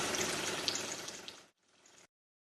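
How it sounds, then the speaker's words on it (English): A De'Longhi coffee machine runs its descaling rinse cycle, pushing water out in a steady, hissing, gushing flow for about a second and a half, then a brief pause and a quieter, shorter burst before it stops. "The appliance carries out a full rinse cycle until the water tank is empty."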